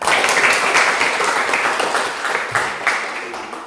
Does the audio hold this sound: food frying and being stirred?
no